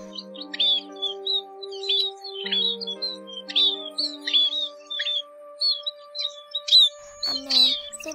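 Recorded calls of munia birds (chim ri đá): repeated bright chirps and short tweets in irregular bursts, fairly close and clear, over a faint steady tonal hum.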